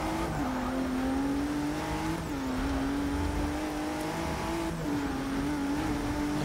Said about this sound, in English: I'm not keen on the engine noise of this Ford.